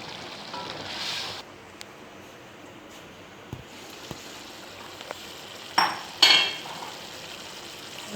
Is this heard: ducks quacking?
no